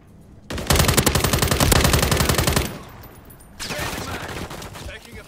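Automatic gunfire in Call of Duty Modern Warfare III, a loud, rapid burst of about two seconds, then a pause and a second, quieter sustained burst with game noise underneath.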